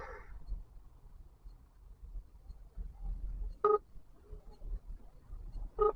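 Phone keypad tones as a taxi driver dials a call in Kerala: two short bursts of clear dual-pitch beeps spaced a couple of seconds apart over low background rumble, with no voices.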